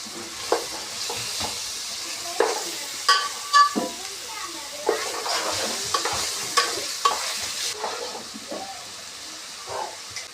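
Chicken pieces frying with ginger garlic paste in a pan for Bhimavaram-style chicken pulao, with repeated stirring scrapes and clinks over a soft steady sizzle.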